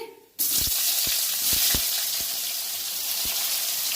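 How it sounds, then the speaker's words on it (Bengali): Three chopped onions hit hot spiced oil for a mutton curry, setting off a sudden loud, steady sizzle that holds throughout, with a few soft clinks of a utensil against the pan. "এখন এর মধ্যে আমি 3টা কুচনো পেঁয়াজ দিয়ে দিচ্ছি"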